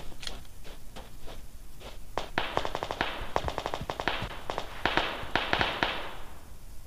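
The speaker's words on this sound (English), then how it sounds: "They're freaking gunshots." Rapid bursts of gunfire from the video game PUBG Mobile crack in quick volleys, sharp and fairly close, over a faint background hum with no talking.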